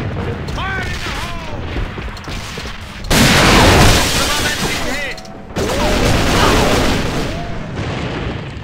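Grenade blasts and gunfire in the video game AVA during a competitive exhibition match, with two loud booming bursts standing out amid steady gunfire, a voice talking over the action.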